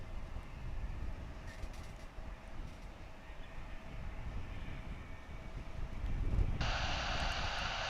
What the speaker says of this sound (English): Arriving from Monterrey in Mexico, it's American Airlines Flight 2286. This is an Airbus